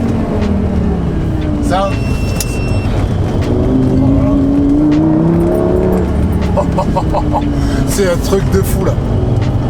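A Lamborghini Gallardo's V10 pulls hard on a country road, its loud engine note rising and falling through revs as a passenger talks excitedly over it from inside the car.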